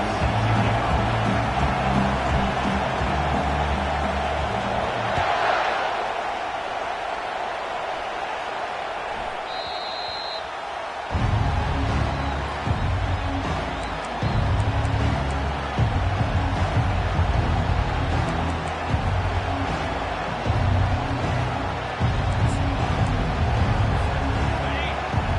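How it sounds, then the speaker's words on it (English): A fired-up stadium crowd at an early stage of a Badgers football game roars with sustained, dense noise that dips briefly before surging back, with a commentator's voice running over it. "It's early, but this crowd is fired up. Listen to this noise here."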